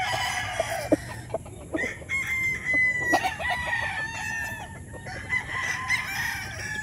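Several stag roosters crow at a gamefarm, overlapping cock-a-doodle-doo calls near and farther off, with clucking fowl and outdoor ambience between crows.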